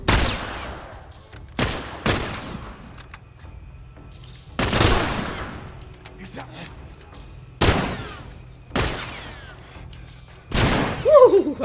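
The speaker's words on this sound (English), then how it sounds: "Who's shooting?" Loud, isolated gunshots in The Last of Us, about eight sharp cracks spaced irregularly with echoing tails, over a low hum, with a few voices in between.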